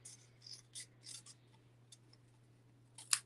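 Scissors cut through designer series paper in a quiet room, several close crisp snipping strokes in uneven bursts, ending with a sharper final snip, over a low steady hum.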